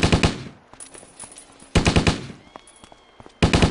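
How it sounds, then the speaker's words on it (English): Loud bursts of machine-gun fire in the video game Stubbs the Zombie come in three separate volleys of rapid shots, with quieter scattered shots and clatter between them and no talking. "Who's shooting?"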